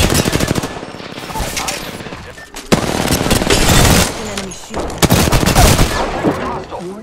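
Rapid automatic gunfire in the video game Apex Legends, loud bursts of fast shots broken by short pauses, with a voice briefly speaking between the volleys.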